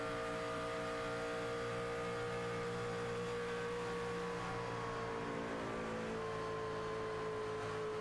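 A racing truck on the Michigan oval races through a turn, its engine droning steadily with a brief easing of throttle, heard from trackside with no talk over it.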